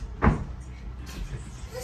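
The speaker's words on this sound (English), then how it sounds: "Just open the door." A door is pushed open with a single dull thud near the start, followed by a low rumbling background.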